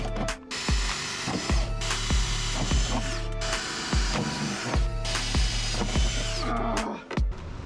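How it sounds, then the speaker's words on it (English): Power drill boring out spot welds on a rusted 1998 Subaru Impreza 2.5RS strut tower, with a steady grinding whine broken by repeated sharp metallic clunks and ratcheting bursts of the bit biting into sheet metal. "we're gonna go ahead and get the drill up here and see if we can get them knocked out"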